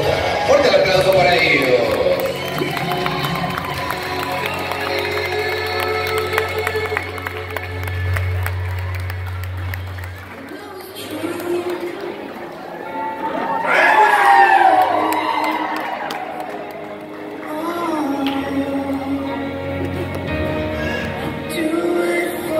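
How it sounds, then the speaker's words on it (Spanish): Wedding guests at Maribel and Osvaldo's reception clap and cheer for the couple, a busy crowd roar layered with music and voices, swelling into a louder burst midway through. "Fuerte el aplauso para"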